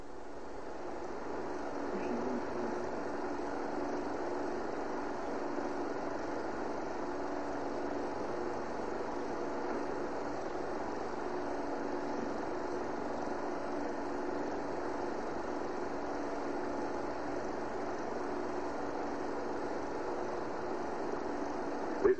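A small single-engine airplane's propeller engine runs on the ground during a hand-propping accident, a steady, even drone that holds at constant loudness throughout.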